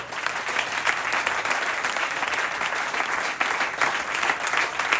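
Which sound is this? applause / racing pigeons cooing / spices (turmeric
applause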